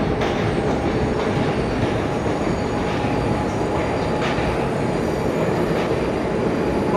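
An NYC Subway R32 train runs in the OpenBVE simulator, a steady loud rumble of wheels and rail noise that persists throughout with faint clicks and no talk.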